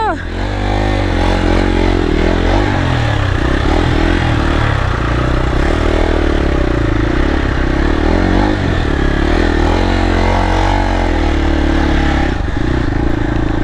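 Motorcycle ridden off-road in rural Nepal, its mid-pitched engine droning steadily up close with rattling clatter and occasional revving, a rider's voice talking over it.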